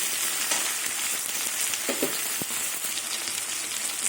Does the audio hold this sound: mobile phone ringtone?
no